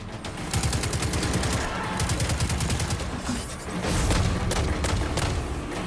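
Scout rifle gunfire in the Destiny 2 Warmind mission, with sustained, loud, rapid shots in close succession over a booming battle din, no talk.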